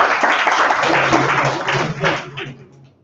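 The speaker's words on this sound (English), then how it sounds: "Anyone here from Johor? Please give them a round of applause." A round of applause from an audience for people from Johor, loud and dense clapping with some voices mixed in, fading away toward the end.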